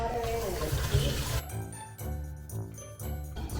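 Water pours into a pot of washed rice with a close, gurgling splash. It stops after about a second and a half, followed by light clinks and tapping of the pot.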